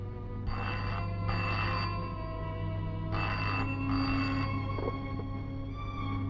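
A telephone rings on an outgoing call to a doctor, giving two clear double-burst rings with a pause between them, close and steady over a constant low hum, with no talking.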